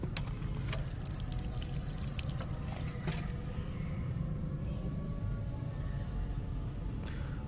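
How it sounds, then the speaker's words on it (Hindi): Water is poured from above onto the soil of a potted Hedera ivy vine, a steady close trickle and splash lasting several seconds with no talking over it. "देन इसको थोड़ा सा और पानी दे देंगे।"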